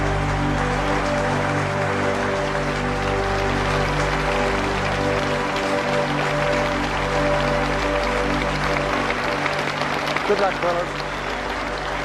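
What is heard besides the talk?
applause from a huge cricket crowd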